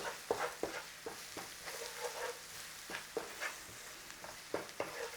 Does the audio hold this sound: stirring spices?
yes